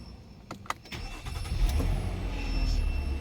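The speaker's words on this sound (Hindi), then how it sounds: "अब गाड़ी आपको स्टार्ट करके दिखाता हूँ।" A car with a push-button start is started after a steering-lock fault. A few sharp clicks come first, then the engine cranks and catches, and it settles into a steady idle rumble up close.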